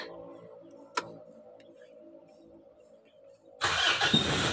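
A Mitsubishi Strada Triton engine cranks and catches near the end, jumping suddenly from a quiet idle hum with a single click into a loud, broadband running roar.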